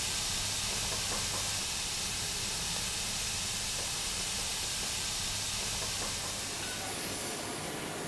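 Steady, loud hiss from a narrow-gauge 600 mm steam locomotive built by Berliner Maschinenbau in 1928, standing at the Sragi sugar mill in Java at night, broad continuous noise with a low hum beneath and no talk.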